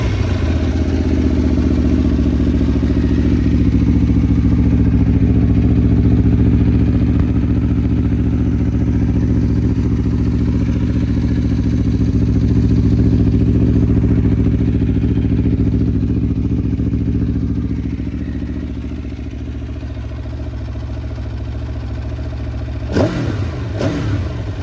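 A motorcycle V4 engine with an Akrapovic exhaust runs in a loud, steady, deep drone close by, easing slightly toward the end before a brief rattle.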